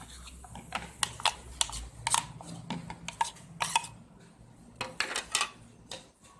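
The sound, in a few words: mixing bread cutlet ingredients in a bowl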